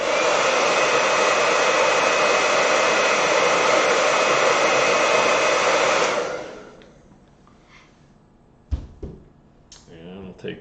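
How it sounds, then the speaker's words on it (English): Hair dryer blowing on a small area of a watercolor painting, a loud, steady close-up roar for about six seconds that fades down as it is switched off, followed by faint handling clicks. "let me dry that little area."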